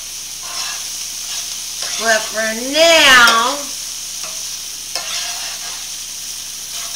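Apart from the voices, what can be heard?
minced garlic frying in oil in a pan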